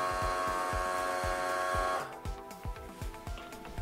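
A homemade air-cooled hat with a fan gives off a steady whirring drone over a fast, repetitive mechanical ticking, close and moderately loud, with the hum dropping away midway while the clicking rhythm continues.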